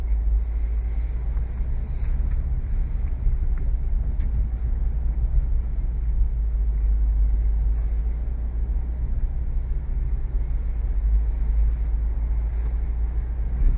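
A Ford Mustang's engine drones low and steady with deep rumbling while its tires struggle on snow on a winter day, continuous and close, with no voices.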